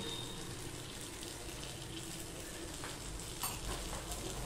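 Ridge gourd frying in a pan with salt added, a steady close sizzle and hiss that runs evenly throughout with no talking.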